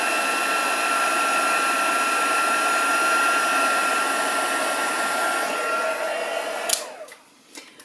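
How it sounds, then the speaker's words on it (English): A heat embossing tool blows hot air in a steady, close, loud whoosh that holds for about six seconds, then cuts off with a few clicks and handling knocks as it is set down. "Okay, so that is now all the heat embossing that I need to do."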